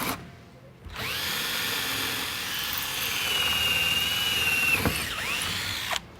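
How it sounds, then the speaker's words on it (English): A power drill pre-drills a hole for mounting a door closer. It whines up to speed, runs steadily with a rising pitch for about four seconds, then winds down and stops. "Go back to the very first hole,"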